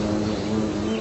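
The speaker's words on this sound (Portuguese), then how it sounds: "Uma vespa tenta atacar as abelhas que entram e saem da colmeia." A wasp buzzing at a honeybee hive, a close, continuous droning hum of vibrating wings lasting about a second, steady and fairly loud.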